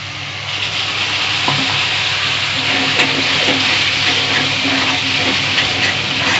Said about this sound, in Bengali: আমি অল্প করে একটু জল দিয়ে দিচ্ছি